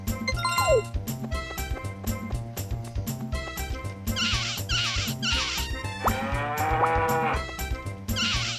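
Cows mooing repeatedly in Harvest Moon 64, several drawn-out moos over a looping chiptune farm melody with jingling tones.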